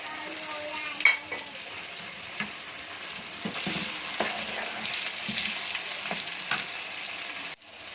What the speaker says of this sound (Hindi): अब ये सब ऐड कर देंगे और चिकन को अच्छी तरह इसमें फ्राई कर लेंगे।